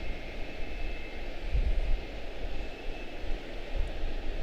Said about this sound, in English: Super smooth departure. SkyWest 4830 to Lewisburg, CRJ7.